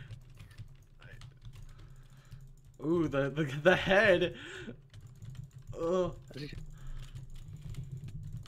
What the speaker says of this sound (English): Shaking my desk, how fast I'm clicking right now